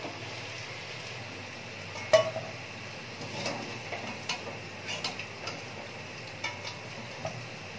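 Fried potato pieces, browned and cut into quarters, are lifted from the pan into a bowl with faint, scattered spoon-and-metal clicks and taps, sparse and close, over a soft steady background.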